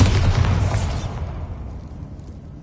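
Bombarda explosion spell in Hogwarts Legacy, a single loud boom right at the start that rings out and decays over about a second into quiet rumble.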